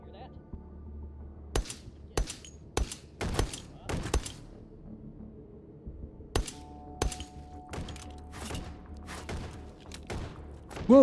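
Several sharp gunshots crack in an uneven series within the virtual-reality shooter Hot Dogs, Horseshoes & Hand Grenades on a long-range combat range, loud and close, with brief gaps between bursts.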